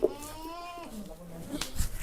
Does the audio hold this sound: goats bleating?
yes